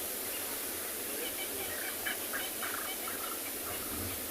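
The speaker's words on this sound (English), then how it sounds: "I don't know if you can hear the birds from the other side of the impala. They are not happy." Distressed bird calls from beyond a herd of impala on a South African morning safari, several short harsh bursts heard faintly at a distance over steady wind and vehicle noise.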